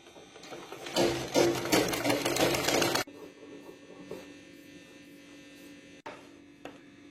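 A sewing machine stitches lining onto a churidar top cut from an old saree, a loud close whirring burst for about two seconds, then a quiet hum with faint clicks.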